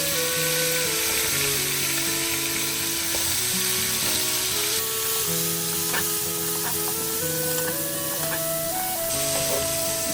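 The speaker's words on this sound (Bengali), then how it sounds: "একটু হলুদ দিয়ে ফুলকপিগুলো আগে ভেজে নিচ্ছে।" Cauliflower florets frying with turmeric in a hot pan, a steady close crackling sizzle that runs without pause under soft background music.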